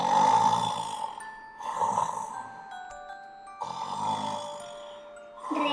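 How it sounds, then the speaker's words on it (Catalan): A cartoon monster snores in slow, rhythmic cycles, each long rumbling inhale followed by a pause, loud and close, with soft chime-like musical tones between the snores. "com ronca!"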